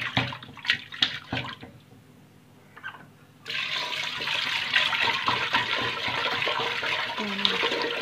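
Water runs steadily from a tap as a shing catfish is rinsed clean after being rubbed with salt, a continuous close rushing splash that follows a few seconds of handling clatter.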